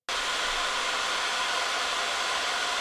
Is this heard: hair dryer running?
yes